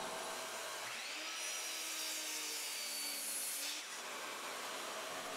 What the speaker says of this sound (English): I began cutting out the blocks over at the miter saw.